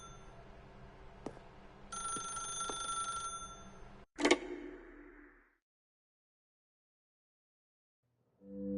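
A telephone rings in a cartoon scene with a loud tonal burst over background sounds, followed by a sharp clatter and then silence.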